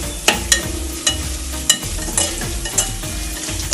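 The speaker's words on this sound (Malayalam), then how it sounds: "ഇങ്ങനെ ഒന്ന് വറുത്തിടട്ടെ" Jackfruit thoran ingredients with onion and urad dal fry in a pan, a steady close sizzle broken by repeated scraping strokes of a spoon stirring, with no one talking.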